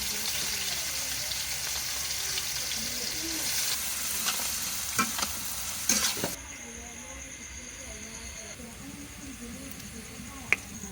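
Chopped onion and green chillies frying in a pan with cinnamon, cardamom, cloves and peppercorns for egg biryani, a steady close sizzle with a few sharp clicks and stirring knocks, easing slightly after the hiss fades partway through.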